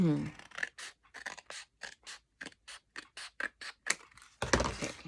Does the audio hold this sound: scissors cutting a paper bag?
yes